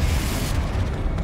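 Confringo blast spell from Hogwarts Legacy: a short, continuous rumbling explosion with heavy low-end boom, loud and sustained for about a second before easing slightly.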